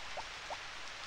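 Steady rain in the video game Harvest Moon for Girl, a soft even hiss of falling water with a couple of faint drip-like ticks and no talking.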